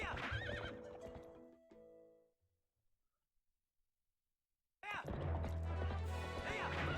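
Horse in Zelda: Twilight Princess neighs loudly with whinnying warbles and clip-clopping hooves, drops to near silence for a few seconds, then the whinny and galloping return at full volume.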